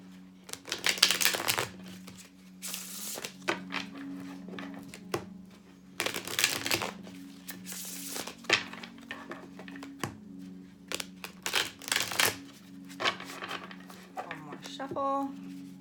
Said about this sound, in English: Do a couple quick shuffles for Taurus.